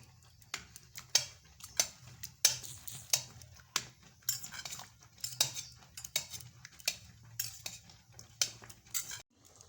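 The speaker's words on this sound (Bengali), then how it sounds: "দেখুন সিদ্ধ রাঙালুগুলোকে কিভাবে মিক্স করছি" Boiled sweet potatoes being mixed for payesh, a spoon clinking and scraping against a metal pot in a steady series of close, sharp taps with soft mashing between, no voices.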